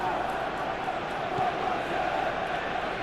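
A stadium crowd murmurs and roars steadily in the background of a PES football match, a broad, distant wash of noise under commentary.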